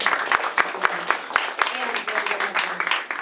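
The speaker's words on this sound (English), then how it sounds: "we get a round of applause for that?" Scattered applause from a panel audience, a modest group clapping unevenly for a few seconds with sharp individual claps standing out over a light background murmur.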